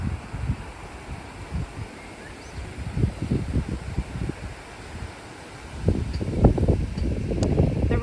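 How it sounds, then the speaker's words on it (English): Wind sweeps through garden grass on a winter day, rising and falling in soft gusts of rustle and low buffeting, growing stronger toward the end, with no voices. "The wind is good for watching movement,"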